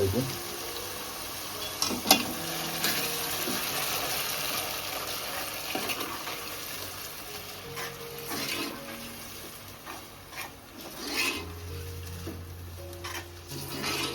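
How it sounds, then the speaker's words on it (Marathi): Ground masala paste frying in hot oil for a crab curry, a continuous close sizzle with intermittent spoon-and-pot scraping as it is stirred, some faint background noise, no clear talk. "आता आपण वाटण ॲड करू परतून घेऊ मस्त"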